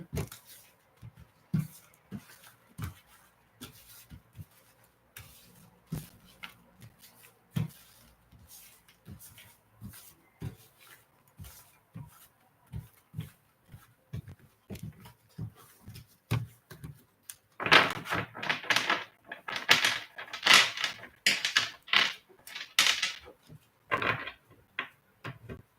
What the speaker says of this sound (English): I will shuffle a little bit